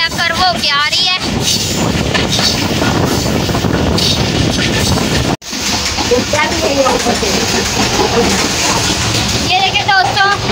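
A passenger train between Walton station and Kasur junction rounds a curve with a loud, continuous rumble and rattling clatter that drops out for an instant midway, while someone talks over it.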